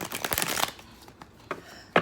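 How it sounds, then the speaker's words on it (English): Tarot cards riffled and shuffled by hand: a quick flurry of soft papery flutters, then a pause and two short riffles, close and quiet. "These are beautiful shuffles"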